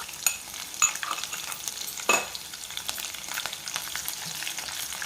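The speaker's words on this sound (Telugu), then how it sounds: "ఆవాలు బాగా వేగాలండి." Mustard seeds and crushed garlic fry in a hot pan with a constant crackling sizzle, broken by a few louder pops and spatters and the occasional scrape of a stirring spoon, with no voices.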